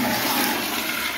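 Commercial flush-valve toilet with a weak flush, flushing up close: a steady rush of water throughout, with no voices.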